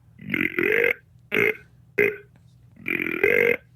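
A voices a series of deep, throaty grunts, four bursts with short pauses, imitating a deer's call.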